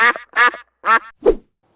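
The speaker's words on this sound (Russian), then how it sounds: "Утка." Four short, loud nasal quacks from a duck close by, spaced unevenly with brief silences between them.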